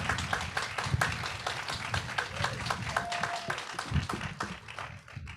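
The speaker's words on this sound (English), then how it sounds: "give them big rounds of applause" Audience applause at a charity giving event, dense steady clapping from a crowd in a room, moderately loud and continuous, with a few brief voices mixed in.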